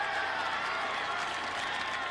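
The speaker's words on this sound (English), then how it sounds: "The crowd sensing an important possession even though we're in the opening quarter." A crowd at a 2011 Notre Dame vs Syracuse men's lacrosse game roars and cheers steadily, with applause-like noise that stays loud and constant throughout.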